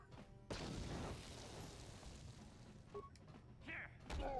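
Grenade blasts in the video game Knights of the Old Republic: a sudden booming explosion that rumbles and decays over a few seconds, followed by clanks, metallic game effects and a second swell of noise.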